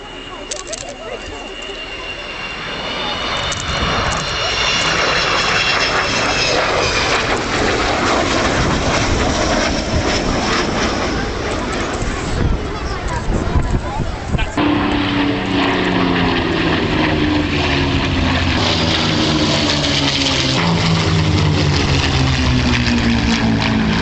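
An Avro Vulcan jet bomber at an air show roars loudly and continuously overhead, its engine sound swelling and shifting in pitch as it passes.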